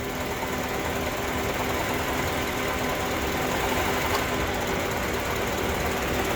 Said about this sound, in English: when the AC compressor kicks on, the whole engine just like shakes.